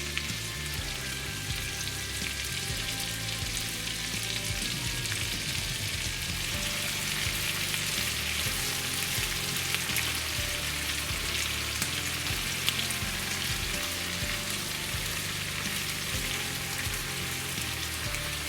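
Asparagus cooking in a hot pan gives off a steady, dense sizzle that holds at an even loudness throughout, close up and with no voices over it.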